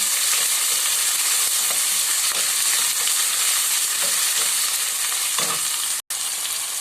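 Vegetables and plenty of tomatoes sauté in a hot pan for a Filipino lemongrass vegetable dish, giving a loud, steady close-up sizzle with occasional stirring scrapes and no talking.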